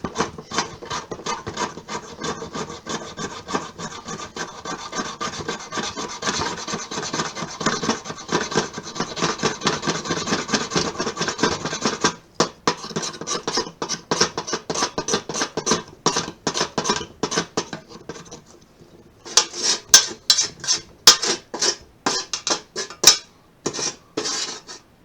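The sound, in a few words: knife back scraping pine wood into chips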